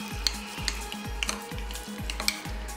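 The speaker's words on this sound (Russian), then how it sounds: "Американская горчица. И все это тщательно перемешаем." Spoon stirring a sauce mixed with American mustard in a bowl, repeated rhythmic scraping strokes about twice per second, close and moderately loud, with soft wet swishing between strokes.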